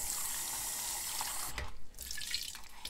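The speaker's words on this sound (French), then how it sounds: "je peux mettre un petit peu d'eau." Tap water running into a sink while a handmade pottery mug is rinsed, a steady close splashing flow that briefly dips and breaks up as the mug moves under the stream.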